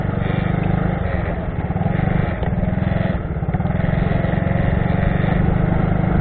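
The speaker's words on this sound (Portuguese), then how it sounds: "Estão duas draguinhas aqui trabalhando, funciona uma barbaridade" Two small dredges pump sand from a canal beside a lagoon, their motors giving a loud, continuous pulsing engine drone close by that dips slightly in the middle and then steadies.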